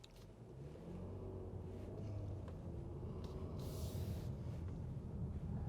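A 2020 Kia Cadenza with a 3.3-liter V6, heard from inside the cabin while driving: a steady, smooth low rumble of engine and road noise throughout, fairly quiet, with no talking.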